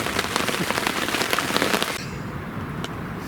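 Steady rain pattering densely on a surface, close and loud, then thinning abruptly into lighter scattered drops.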